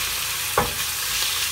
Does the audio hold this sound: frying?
yes